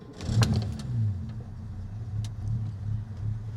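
A Rover P4 110 with a 2.6-litre six-cylinder engine idles smoothly with the choke partly out, a steady low hum, close and even, with a few faint clicks over it.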